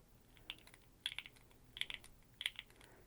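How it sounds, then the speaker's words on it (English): Clicky computer keyboard keys are pressed in small quick clusters, a handful of crisp, faint, close-up clacks separated by short pauses in a quiet room. "Just keep pressing each key"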